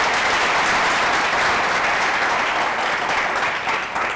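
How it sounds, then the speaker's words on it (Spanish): Studio audience applauding at the close of a comedy show on Equatorial Guinean television, a dense, steady wash of clapping that stays loud and continuous throughout and fades slightly near the end. "Otro fuerte aplauso."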